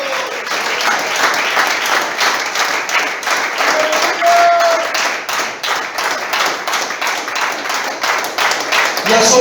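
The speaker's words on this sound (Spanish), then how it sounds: "Aplauda al que vive" Church congregation applauding during a worship service, loud sustained clapping from many hands with a slightly rhythmic pulse, carrying on steadily throughout.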